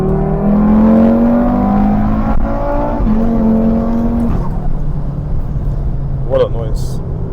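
An Audi RS3 tuned to stage 2 and running on ethanol revs hard, loud and close, its tone climbing and falling across several rev sweeps before a brief burble near the end.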